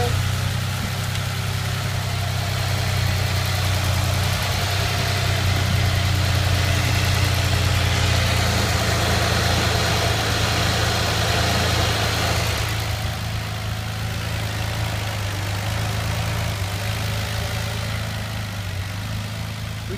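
A 2007 Ford Fusion with a 3.3 liter V6 idles steadily on an engine test, a loud, even low rumble with a constant hum that barely changes for the full duration, no talking.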